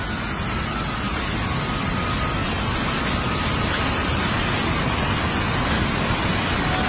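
Water rushes steadily along a channel feeding a water-powered flour mill, a loud, unbroken broadband roar that stays close and constant throughout with no voices.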